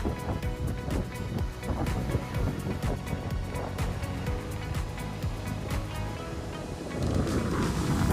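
Strong wind gusting by the sea at Dhanushkodi, a steady loud rush buffeting the microphone over surf, with no talk and the roar swelling further near the end.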